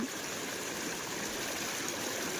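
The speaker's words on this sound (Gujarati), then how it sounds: "ત્યાંથી અનલિમિટેડ પાણી નીકળે છે." Floodwater pours continuously from a breached embankment after heavy monsoon rain in Kutch, a steady, loud rushing and gurgling wash of water with no letup and no voices.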